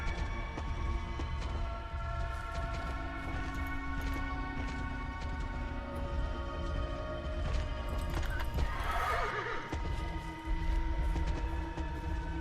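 Horses in the DreadOut horror video game neigh and whinny over a dense, layered game soundscape. A sharp crash-like burst comes near the end, and a few faint yelps mix in.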